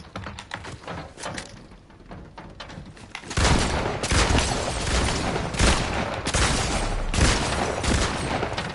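Shotgun fire in a Fortnite match: soft scattered taps first, then heavy booming blasts at irregular intervals over a dense, loud gunfight bed.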